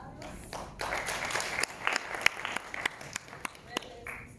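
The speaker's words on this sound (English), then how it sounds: "Round of applause for Carlos." Audience applause at an agriculture conference, a crowd clapping steadily for several seconds with a few sharper, louder claps standing out, then thinning toward the end.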